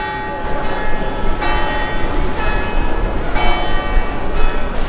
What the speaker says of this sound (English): St. Mark's Bell Tower,